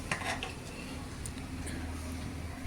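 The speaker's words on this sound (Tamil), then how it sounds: "இந்த சாதத்தை அந்த மசாலாவில் நல்லா கரண்டியால் மேலேயும் கீழேயும் புரட்டி மிக்ஸ் பண்ணி வச்சுக்கிறாங்க" A ladle turns rice through vegetable masala in a large pot for a vegetable biryani, giving a steady, close clatter of metal scraping and knocking against the pot with faint sizzling underneath.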